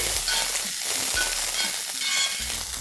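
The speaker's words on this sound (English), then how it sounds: "2 inches of roughly chopped ginger, 8 cloves of chopped garlic, 5 chopped green chilies. Just let's saute this for a few seconds." Chopped ginger, garlic and green chilies sizzling in hot oil in a pan, a loud constant crackle with a few scraping stirs.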